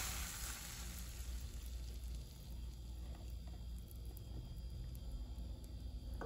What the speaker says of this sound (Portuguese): tô fazendo aqui um omelete. Aí eu coloquei linguiça calabresa aqui dentro